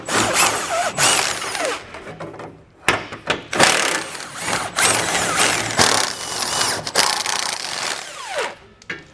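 Ratchet clicking in quick bursts while loosening the bumper beam nuts at the rear of a 2017 BMW X5, with short pauses between runs of mechanical ticking.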